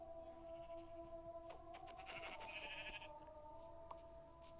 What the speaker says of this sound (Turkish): Üç tane koyun var.